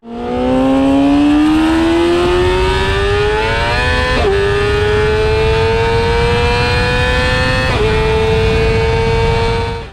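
Yamaha R6 sport bike fitted with an Akrapovic GP exhaust revs loud and close, its pitch climbing steadily with two sharp shifts as the engine winds up, no voices.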